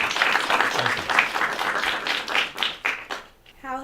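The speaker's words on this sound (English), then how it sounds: "Please welcome, with a round of applause," Audience applause greets a former U.S. congressman from Minnesota, a burst of clapping that fades and tapers near the end as a voice begins to speak.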